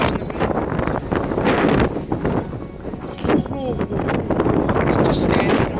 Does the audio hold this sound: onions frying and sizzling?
no